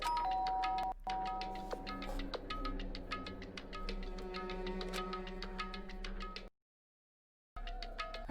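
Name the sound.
doorbell ringing in video game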